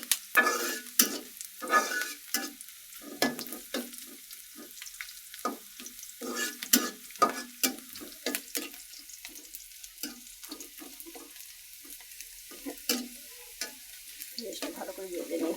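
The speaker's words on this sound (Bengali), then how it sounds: "তখন আমি এই যে ডাল কুমড়া রান্না করেছি তার মাঝে ঢেলে দেবো, তাহলে বাগার দেওয়া হয়ে যাবে।" Spiced tempering fried and poured into a lentil and bottle gourd curry, with a crackling sizzle and scattered sputtering pops, plus stirring and clinking against the pot, close and steady throughout.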